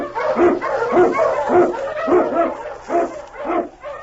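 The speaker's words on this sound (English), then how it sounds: "King, the swiftest, strongest of Eskimo lead dogs, blazes the trail through storm and snow for Sergeant Preston" Husky sled dogs on the Yukon trail barking in a steady rhythm of about eight sharp, repeated barks over four seconds, loud and close over a low background hum.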